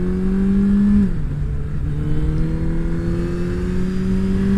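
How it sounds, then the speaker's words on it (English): A Suzuki Hayabusa or Gixxer sport motorcycle engine rises in pitch under throttle, briefly dips, then climbs again with a steady, loud drone close by. "Let's give it a little throttle."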